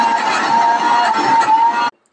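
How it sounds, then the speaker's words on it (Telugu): A kitchen mixer grinder churns milk cream into butter with a loud, steady whirring hum that holds for nearly two seconds, then cuts off abruptly into silence. "దీన్నైతే ఇప్పుడు మిక్సీ పట్టుకుందాం ఫ్రెండ్స్"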